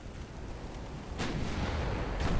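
Battleship guns firing in the naval game UA: Dreadnoughts, a sudden deep booming blast rising out of a low rumbling roar, followed by another building boom, with no voices.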